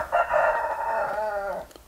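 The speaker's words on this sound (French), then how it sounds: "J'ai un jeune coq qui apprend à chanter." A young rooster in a garden attempts to crow, a single strained, wavering cock-a-doodle-doo lasting over a second, loud and close, cracking unevenly toward the end, with no talk over it.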